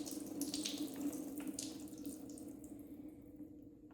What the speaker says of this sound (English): The first step is you pour this into the strainer.